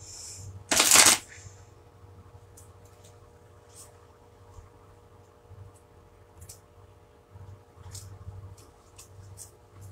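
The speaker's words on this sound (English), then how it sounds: "I almost shuffled my cards backwards." Playing cards shuffled in a short, loud riffle near the start, followed by quiet handling noises and faint room sounds.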